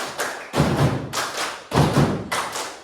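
A class repeats its patterned group clap, with strong, close bursts of many hands striking together in a short repeating sequence of beats and pauses.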